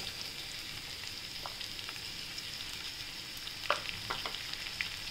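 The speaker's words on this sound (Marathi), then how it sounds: "शिमला मिरची टाकूया आणि आता छान परतू याला" Capsicum and corn stir-fried in a pan for corn rice, a steady soft sizzle of hot oil with scattered clicks and scrapes of stirring, close and alone without voices.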